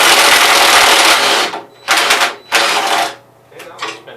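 A power driver spinning a flathead screw out, a loud close grinding whir that runs continuously, then breaks into several short rattling bursts with brief pauses between them.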